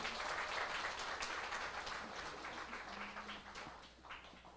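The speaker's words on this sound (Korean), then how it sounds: "이승아 리더님께 다시 한번 큰 박수 부탁드리겠습니다." A crowd applauds, a dense patter of clapping that starts strong and slowly thins out over a few seconds, with no talking.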